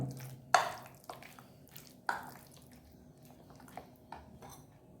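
Chicken 65 marinade is mixed with rice flour in a bowl. Soft, close clinks and knocks of a utensil against the bowl come every second or so, with faint wet squishing between them.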